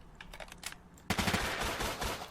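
Rapid automatic gunfire from a character's weapon in a Unity battle royale game, a loud burst of repeated shots starting abruptly after a brief quieter lead-in of lighter clicks.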